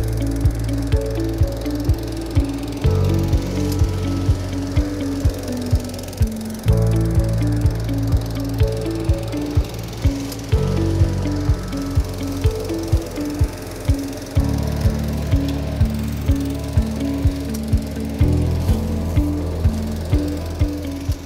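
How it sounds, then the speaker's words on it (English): Petrol lawn edger trimming the edge of a lawn before mowing, a steady close engine drone with repeated rhythmic ticks and slight shifts in pitch as it moves along the edge, no voices. "I'm just going to edge it up first before we mow"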